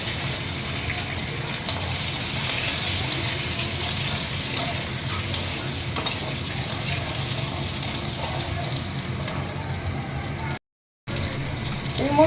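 Potato and eggplant hit hot oil seasoned with panch phoron, giving a steady, loud, broadband sizzle with a watery hiss that runs unbroken and close, with no voices over it.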